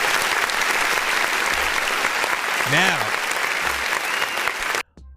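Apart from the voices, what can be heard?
applause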